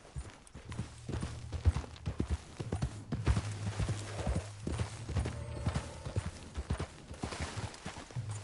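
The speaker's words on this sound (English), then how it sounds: "Please, control that horse." A horse in the Red Dead Redemption 2 video game clip-clops along at a steady walking rhythm, the hoofbeats near and distinct over a low ambient hum, with no speech.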